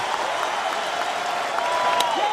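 Baseball stadium crowd during a Detroit Tigers vs. Cleveland Indians game, a broad steady roar of cheering and clapping that swells slightly toward the end, with no voices standing out.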